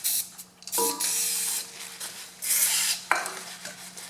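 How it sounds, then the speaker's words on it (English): Brake cleaner sprays into a Kubota B7001 tractor's right-side brake drum in short hissing bursts, three close blasts separated by brief pauses with faint metallic clinks between them. "I'll just clean out this drum with some brake cleaner."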